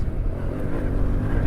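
A Yamaha Tenere World Raid adventure motorcycle engine revs hard with a loud, rough low rumble, close and continuous, with some wind noise.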